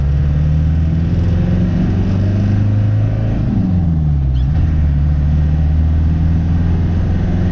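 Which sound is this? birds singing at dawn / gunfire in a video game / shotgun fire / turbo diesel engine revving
turbo diesel engine revving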